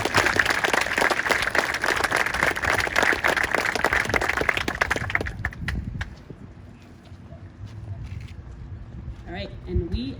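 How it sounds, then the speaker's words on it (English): Audience applause at a 5th grade graduation ceremony in 2021, a dense clatter of many hands clapping for about five seconds, then fading into quieter room noise with some faint voices. "one last round of applause"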